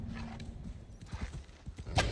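Horse hooves clip-clopping in the video game Assassin's Creed Valhalla, a quick uneven run of soft thuds over faint background game sound, with a brief louder burst near the end.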